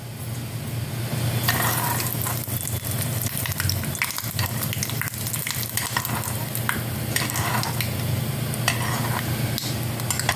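Urad dal, green chillies and curry leaves frying in oil for a tempering, a continuous close crackling sizzle with occasional stirring scrapes.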